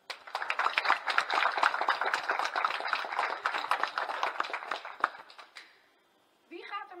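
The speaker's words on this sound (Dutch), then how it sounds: "met recht, applaus voor wat jullie allemaal hebben gedaan" A group of people gives dense, lively applause for the staff at the opening of a new Spar store, sustained for about five seconds before fading out, followed by a brief voice.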